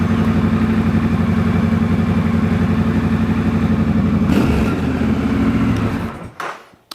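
Triumph Scrambler 1200 XE/XC motorcycle engine fitted with a booster plug, running loud and close at a steady idle, then cut off so the sound drops away over the last second.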